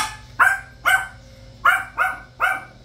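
A dog barking repeatedly indoors, six sharp, evenly spaced barks roughly half a second apart, close and loud over a low steady hum.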